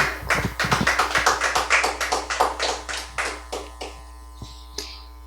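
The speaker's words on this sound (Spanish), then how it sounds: "Bríndele fuertes palmas al Señor." A burst of sharp hand claps from a church congregation in rapid rhythm, loud at first and then thinning out and slowing to scattered claps before stopping.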